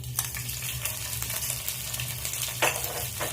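Ginger, garlic and green chili paste sizzles steadily in hot oil with whole spices for a rohu fish korma, a close, continuous frying hiss broken by a few scraping stirs.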